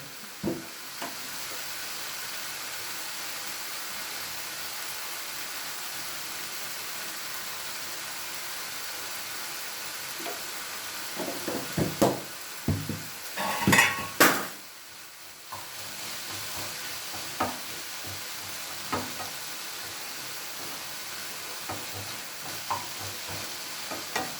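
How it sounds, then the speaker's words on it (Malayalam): Ivy gourd stir-fry with salt sizzles steadily in a pan, a soft constant hiss with a cluster of louder spoon scrapes and knocks in the middle and scattered stirring clicks later. "നന്നായി ഇളക്കുക ഇനി നമുക്ക് ഇതിനാവശ്യത്തിന് വേണ്ട ഉപ്പിടും"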